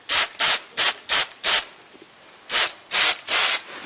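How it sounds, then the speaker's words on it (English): Aerosol can spraying oil-based black rust protection onto a car's undercarriage, seven loud close hissing bursts of about a quarter second each in two groups, separated by short quiet gaps. "You basically spray this on your vehicle."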